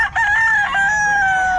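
A rooster crows loudly and close at a live poultry market in Bocaue, one long sustained crow that holds steady before trailing off, standing alone with no talk over it.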